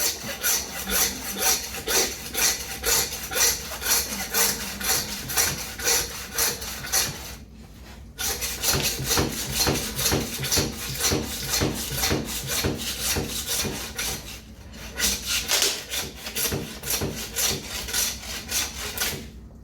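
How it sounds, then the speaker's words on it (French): A butcher saws through a femur bone in a cut of meat with a hand saw. The rasping strokes are steady and rhythmic and sound close, with two brief pauses between runs of strokes. "il faut que la lame, elle soit au ras de la tranche grasse et qu'elle vienne se mettre au ras de l'araignée là-bas. Et là, on scie."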